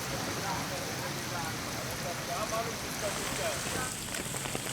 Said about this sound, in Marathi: रत्नागिरी जिल्ह्यातील गुहागर, संगमेश्वर, राजापूर तालुक्यामध्ये मुसळधार पाऊस झालाय